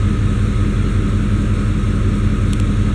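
A truck engine idling at 650 RPM, producing a steady low rumbling drone with an even throb, loud and continuous with no voices over it.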